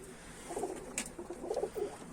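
Posta filo pigeons coo softly inside their coop at evening, a few low, rounded coos repeating in short bursts, fairly quiet and close with no talking.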